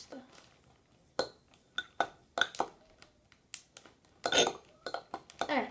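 Ingredients for homemade slime being stirred in a bowl, giving scattered clinks and scrapes of a utensil against the bowl at an irregular rhythm, close and moderately loud, with faint voices nearby.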